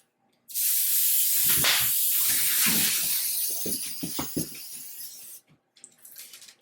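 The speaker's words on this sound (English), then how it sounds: "This, I do want to spray really well." A loud cooking spray can hisses steadily for about five seconds onto a pan with pyramid-shaped indentations, broken by a few light clinks, then cuts off and a brief softer spritz follows.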